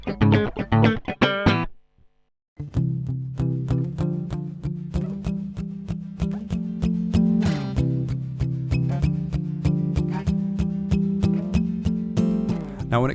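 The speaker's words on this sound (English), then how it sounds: "so what you're hearing is direct tones from the preamp." Electric guitar played straight into a Red Eye preamp with no amp modeling, giving a clean, dry direct tone; plucked notes and chords ring out near and steady, with a brief silent pause near the start.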